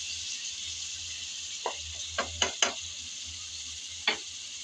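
Shankar fish (stingray) pieces go into cooked spice paste in a pan, setting off a steady background sizzle with a few sharp crackling bursts as pieces land and are shifted.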